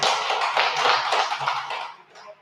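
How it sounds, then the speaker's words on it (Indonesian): An audience claps at a small acoustic jamming session, a dense burst of applause that holds steady for about two seconds and then fades away. "Tepuk tangan dulu kembali di sini ya"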